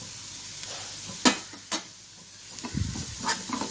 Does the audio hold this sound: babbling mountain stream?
no